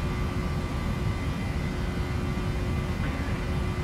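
Steady, loud broadband roar of a PMDG 737NG jet's engines during takeoff in a flight simulator game, holding constant and unbroken throughout with no voices.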